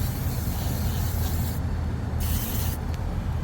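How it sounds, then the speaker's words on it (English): An aerosol can sprays into the dashboard vents of a Honda CR-V, a loud hiss in several short bursts with brief gaps, over a steady low rumble. "And what we'll do right here is just spray it."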